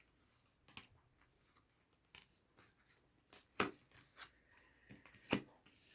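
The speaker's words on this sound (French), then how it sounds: "Allez, tirage à 9 cartes." Playing cards are shuffled and drawn for a nine-card spread: soft, faint riffles and papery flicks, with a few sharper snaps as cards are laid down close by.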